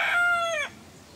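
A rooster crows once, a clear harmonic cock-a-doodle-doo ending abruptly, fairly close with quiet background afterward, on a mountain slope at midday.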